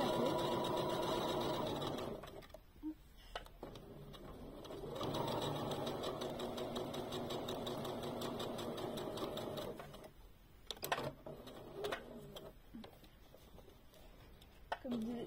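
A borrowed sewing machine stitches the bottom of a reversible bag in two loud, steady runs separated by a short pause, then breaks into brief stop-start bursts and handling clatter with a voice speaking.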